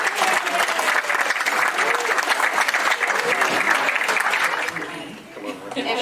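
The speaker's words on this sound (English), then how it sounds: "let's get a warm round of applause." A live show audience claps warmly in a loud, dense burst of applause that carries on for several seconds before tapering off near the end, with some crowd voices mixed in.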